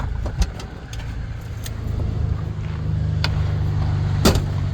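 A project car that has only just been made to run again, with an intermittent fault, drives along with a steady low engine drone close by, punctuated by a few sharp clicks and knocks from the cabin; no one speaks.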